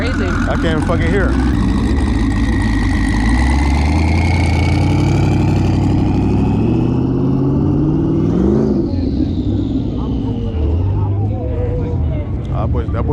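Loud car engine idling and revving at a packed car meet, a deep rumble with rising and falling tones, heard close up while people talk over it throughout.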